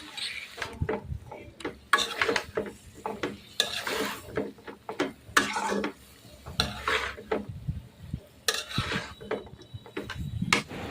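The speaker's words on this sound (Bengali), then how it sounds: "আরও কিছুক্ষণ কষিয়ে নেওয়ার পরে যে মশলাটা রেডি করে রেখেছি তাও দিয়েও কিছুক্ষণ কষে নেব।" Fish curry masala being stir-fried in a pan with previously fried brinjal, pointed gourd and bitter gourd, a utensil scraping and clinking steadily against the pan over a soft sizzle, close and continuous with no talking.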